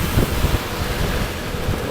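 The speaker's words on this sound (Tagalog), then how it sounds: "Ang lakas ng hangin mga idol." Strong, steady wind buffeting the microphone during a motorcycle ride, a continuous low rumbling roar with no voices.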